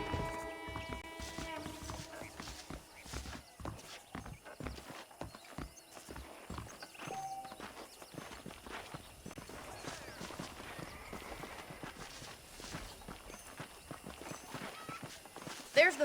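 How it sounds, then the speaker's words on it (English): Saddled horses clip-clopping in the Western game Red Dead Redemption, a steady run of close hoof hits with rhythmic thuds throughout, an occasional whinny, and talking over it. "The horses are saddled up over here."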